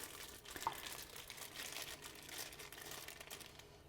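Plastic bag holding chicken giblets crinkling and rustling in a kitchen, soft and close, continuous crackly handling for a few seconds with no speech.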